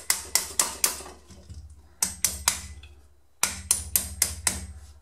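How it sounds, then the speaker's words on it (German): Sharp metallic hammer taps in three quick bursts of four or five strikes each, separated by short pauses, close and crisp, tapping a pin out of a PP-19 Bizon firearm. "Dafür nehmen wir uns einen Hammer."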